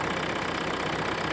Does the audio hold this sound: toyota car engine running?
yes